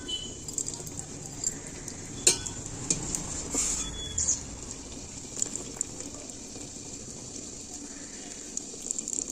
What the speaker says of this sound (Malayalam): അരി കഴുകിയിട്ട്